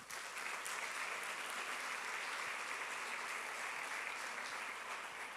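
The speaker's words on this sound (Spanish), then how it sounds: "Démosle un aplauso al Señor." A church congregation applauds the Lord during a Sunday service, a dense, even roar of clapping from many people, sustained and fairly distant.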